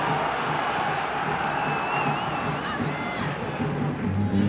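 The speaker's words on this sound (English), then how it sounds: "Terrific crowd in." Large football stadium crowd at a Wrexham match, a dense continuous roar of voices with scattered whistles and shouts, loud and unbroken.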